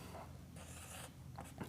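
A teacher writes letters on a board, producing soft scratchy strokes of a marker or chalk, close and quiet over steady background hiss, with no talking.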